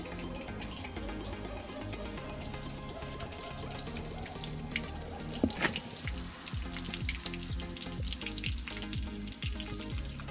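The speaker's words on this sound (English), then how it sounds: "all 4 holes are now drilled out, so just let all this water" Water trickling and gushing steadily as it drains out of drilled holes in a flooded Audi 2.7 bi-turbo car's floor, with irregular splashes and drips throughout and no one talking.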